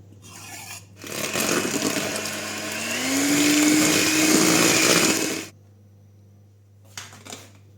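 Electric hand mixer whirs through cookie dough as an egg is beaten in, starting after a pause, rising in pitch and running steadily for about four seconds before cutting off, with a few faint clicks afterward.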